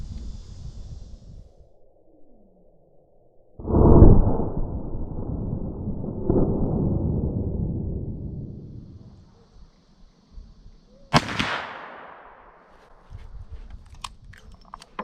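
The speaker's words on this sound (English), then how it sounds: "I'm shooting them all single action." A Taurus Raging Hunter .44 Magnum revolver fires single action outdoors: two or three sharp, heavy reports spaced several seconds apart, each with a long decaying rumble.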